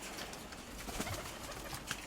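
Pigeons cooing softly at a loft after settling on a perch, their low murmurs steady over faint background noise, with a brief flutter near the end.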